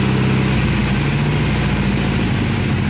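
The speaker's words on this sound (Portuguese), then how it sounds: "Esse aqui é o motor na Brasília." Volkswagen Brasília engine fitted to a homemade forklift built from the car's cut-down chassis, running loudly and close at a steady idle with a continuous rough drone, no talking.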